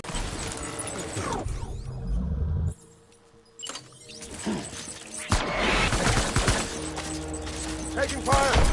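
Bursts of video-game gunfire rattle loud and dense, with a short lull in the middle before the shooting resumes heavily, while voices call out over the battle.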